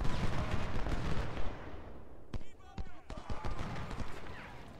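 Troops firing muskets from cover in the Civil War strategy game Ultimate General: Civil War at Gaines' Mill, heard as sharp scattered shots and crackling volleys over a busy battlefield din, with speech mixed in.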